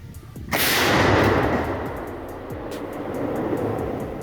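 A single loud, close blast from a 105 mm artillery gun, followed by a long rolling rumble and echo that fades slowly.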